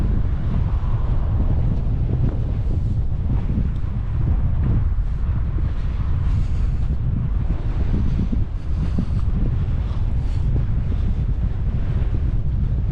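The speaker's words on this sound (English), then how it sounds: "Of course, it's really windy" Heavy wind roars steadily against the microphone on the Corralejo sand dunes for the whole stretch, a dense, unbroken rumble with no voices.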